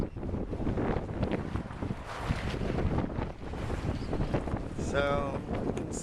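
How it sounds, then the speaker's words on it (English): Strong gusting wind roars steadily across the microphone outdoors at a homeless tent camp during a spring dust and wind storm in Las Cruces, New Mexico, with brief talk and rattling underneath. "So, you can see it's very windy."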